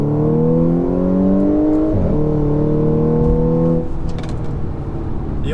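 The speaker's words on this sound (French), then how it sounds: "on va se prévoir peut-être éventuellement une petite accélération" A supercharged Audi S5 pulls hard through the gears, the engine note climbing steadily, dipping briefly at a shift near two seconds, rising again, then easing off; loud and close from inside the car.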